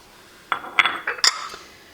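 Small Asian-style ceramic bowl and little dishes handled up close, giving a few sharp clinks and knocks spaced over two seconds, no talk.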